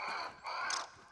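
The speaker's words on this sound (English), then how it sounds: "Wait, that's a bird." A crow-like bird in the video game Grounded gives two harsh caws in quick succession, the second rising into a sharper, brighter call, fairly loud and with no talking over it.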